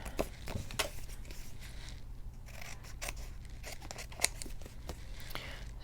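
Paper being trimmed with scissors for a handmade junk journal folio, a string of sharp snips and cuts at close range, irregularly spaced over a low background hum, with no talking.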